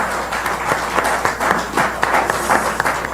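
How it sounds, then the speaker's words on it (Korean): A crowd at a political forum with Seongnam mayor Lee Jae-myung applauds, dense overlapping clapping with distinct sharp individual claps standing out, steady and fairly loud throughout. "공감하시는 분만 박수를 좀 쳐주십시오."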